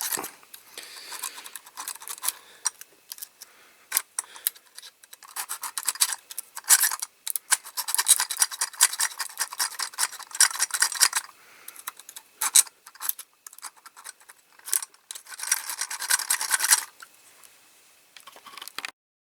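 A metal part of a Dinky Toys AEC articulated fuel tanker lorry is hand filed, giving close, dry, scratchy rasping strokes in uneven bursts with short pauses between them.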